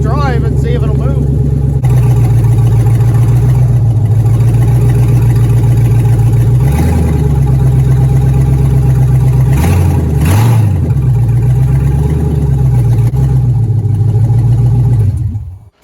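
The engine of a van fitted with a turbo LS and a 4L80E transmission idles loudly and steadily close by, with slight pitch rises as it is put in drive and cuts out at the end.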